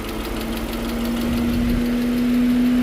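A steady engine idle from a sludged-up Nissan NV3500 engine, running smoothly with a constant low hum and a faint ticking tap mixed into the drone.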